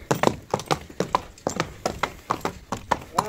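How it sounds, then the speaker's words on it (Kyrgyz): A purebred Kyrgyz horse's hooves clip-clop in a steady, brisk rhythm of close, sharp strikes, about three to four per second, throughout. "Теги таза эле кыргыз жылкысы да."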